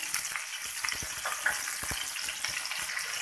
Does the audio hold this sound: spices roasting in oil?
yes